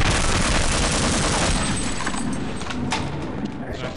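Automatic turrets in Half-Life fire loud, continuous rapid bursts of gunfire close by, dense and unbroken for the whole stretch, with no talk.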